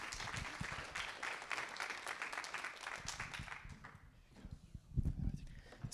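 Audience applause at an event, a dense wash of clapping that thins toward the end, with a brief swell of noise just after.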